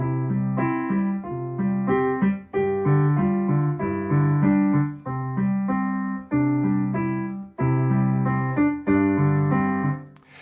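Piano plays a G octave and a C octave in repeated patterns in short phrases, each group of notes ringing clearly before a brief pause and the next phrase.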